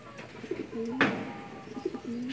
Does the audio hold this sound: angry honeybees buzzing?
no